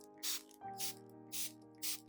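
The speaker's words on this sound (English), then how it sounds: "regular mist spraying helps remove dust from leaves" Four short hissing bursts from a spray bottle misting orchid leaves, evenly spaced about half a second apart, close and moderately loud over a steady low background hum.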